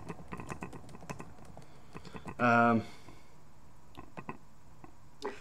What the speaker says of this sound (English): He's tapping on his keyboard and it sounds like he's eating.